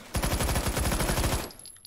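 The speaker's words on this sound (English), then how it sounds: "Full auto SMGs are really nice against those swarms." A full-auto 9mm submachine gun in a video game fires one continuous rapid burst of about a second and a quarter, loud and close, then cuts off, with no talk.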